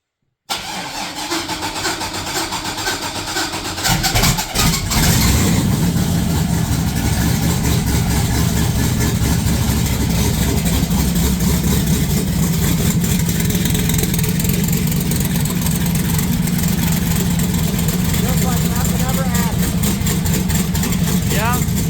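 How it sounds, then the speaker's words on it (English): A racecar engine cranks for a few seconds, fires up loudly on the first try, then settles into a rough, rumbling idle that carries on close and steady, with people talking over it. "I have my bets on this thing firing up first shot."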